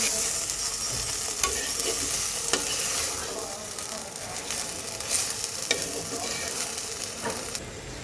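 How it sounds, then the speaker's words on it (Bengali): Spice paste with green chilies fries in a pan for prawn dopiaza, a loud, continuous sizzle broken by repeated scraping stirring strokes. "এর মধ্যে এখন আমি দিয়ে দিলাম কাঁচা মরিচ এই মশলাটা কিন্তু খুব সময় নিয়ে কষাতে হবে"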